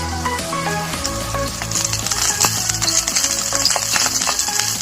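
Ghee sizzles and spits in a hot pan on a low gas flame, with steady crackling, a few clinks of a utensil and no speech.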